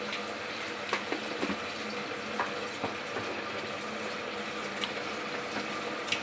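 Mustard seeds, cumin, chana dal and urad dal fry in about two spoons of oil in a pan for dondakaya pachadi, giving a soft, steady sizzle with scattered small pops and crackles, fairly quiet throughout.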